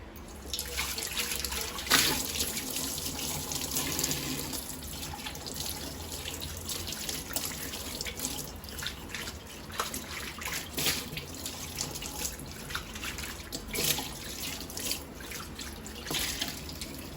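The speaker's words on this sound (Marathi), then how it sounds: "तामण आपले घासून झाले ते स्वच्छ आता धुवून दाखवते" Running tap water rinses a freshly scrubbed copper plate, a steady continuous splash and patter from start to end with occasional louder surges, fairly close and alone without talk.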